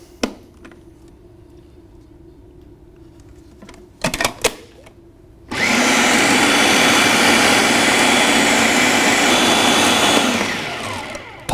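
Food processor pulsing bean dip for soft pretzels: a few short bursts followed by a loud, steady motor whir and chopping churn up close, running several seconds before tapering off.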